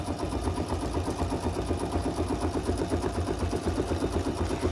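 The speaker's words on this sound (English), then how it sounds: "finish up this stitching on this reindeer" A Christmas machine-embroidery machine stitching a reindeer design hums and chatters in a steady, fast, rhythmic pulse, moderately loud and close, with no voices.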